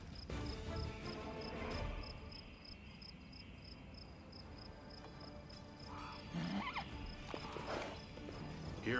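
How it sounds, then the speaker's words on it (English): Horse hooves clop in the fantasy role-playing game Pathfinder: Wrath of the Righteous, a faint rhythmic clip-clop over low ambient game sound with a steady high tone, plus a few brief animal-like calls later on. "And get back on your horse, fool."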